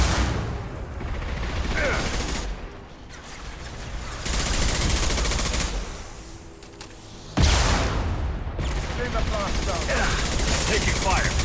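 Dense gunfire in a Mass Effect 2 firefight, sustained bursts of automatic shots and impacts running nearly the whole time, loud and close, with a brief lull midway before the shooting resumes.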